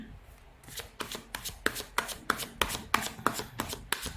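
Tarot cards are shuffled close up in a quick, even run of crisp riffling slaps, about a dozen in a row, with no voices over them.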